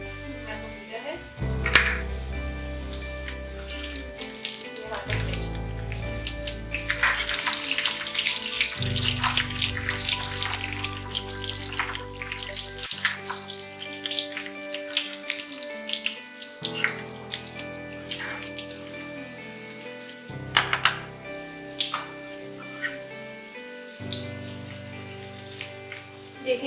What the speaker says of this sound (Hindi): अब हम इसके अंदर जीरा और लाल मिर्ची डाल देंगे